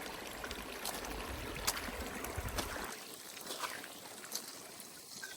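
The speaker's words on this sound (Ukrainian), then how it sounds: "із гірського струмка в нього затікає вода" A mountain stream flows into a small lake in the Carpathians, a faint steady trickle and burble with soft splashes, quieter in the second half.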